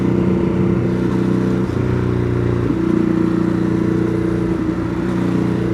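Ducati Hypermotard 821 motorcycle being ridden, a steady engine drone holding a constant pitch with mild variations, close and continuous throughout, with no talking.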